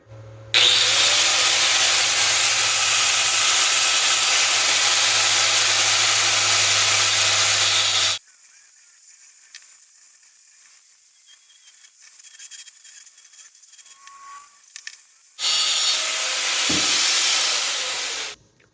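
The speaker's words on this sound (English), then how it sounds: "Now we're going to flip it over and grind off those tack welds we put on there before" Angle grinder grinding tack welds off a metal part for a travel trailer storage build: two loud, steady bursts of harsh grinding, one about eight seconds long and a shorter one near the end, with a quiet gap between them.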